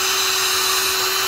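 Close, continuous whine of a power drill boring pilot holes for screws in wooden furring, holding an even pitch and loudness throughout with no voices.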